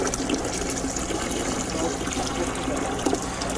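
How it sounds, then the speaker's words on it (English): Water rushes continuously while walleye eggs are rinsed in a fish hatchery, making a loud, steady, broadband splashing gush with no pauses and no speech. "So we're gonna keep rinsing here, make sure we get these as clean as possible."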